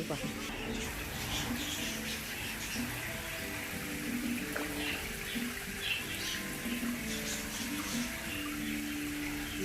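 A small waterfall trickles and splashes steadily into a fish pond beside a restaurant, a continuous gentle rush heard under people talking nearby.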